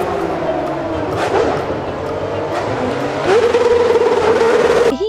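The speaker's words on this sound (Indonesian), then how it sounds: "Yang ini mobil balap Formula One." A toy Formula One race car gives off a steady buzzing engine-like whine with squealing tones that rise in pitch near the end, loud and close, over a busy background.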